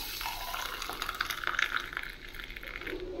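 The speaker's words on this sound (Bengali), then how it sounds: "তাই দুধটা ঢেলে দিই" Milk is poured from a container at home, a soft liquid trickle and splash heard faintly and close by with no talk.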